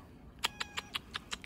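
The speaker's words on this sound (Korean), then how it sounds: "고양이가 또 반겨주네요." A cat calls out at the front door of a home, six short, evenly spaced meows or chirps that are close and clear over a quiet background.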